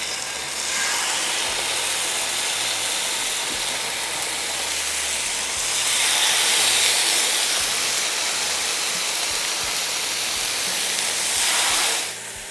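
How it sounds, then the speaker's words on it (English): A steak sizzles loudly in a hot pan, a dense, steady crackling hiss that swells and eases over about twelve seconds before cutting off. "listen to that sizzle"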